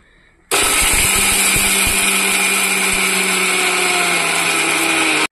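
A kitchen mixer grinder starts abruptly and runs loud and steady, whirring as it grinds dried coconut for chutney, with no voices over it.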